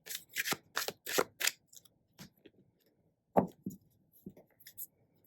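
Crisp shuffling of a chunky tarot deck close up: a rapid burst of snapping riffles, then a pause and a few softer taps of cards being squared.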